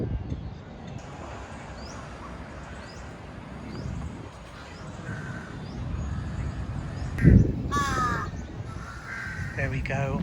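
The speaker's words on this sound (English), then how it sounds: "There we go, our murder of crows." Crows caw repeatedly in Lumphini Park, Bangkok. The calls are moderately close and stand out against a broad hum of city and park background, with a louder burst near the end. A person speaks faintly at times.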